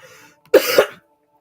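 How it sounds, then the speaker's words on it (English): A single close, loud cough with a throaty double burst from a person who has a lingering cough, following a faint noise and then dropping into silence. "The way I'm bloody coughing"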